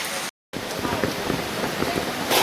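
Heavy rain pours steadily on a flooded village in Gujarat, a dense continuous hiss with a brief cut near the start and faint talk mixed in.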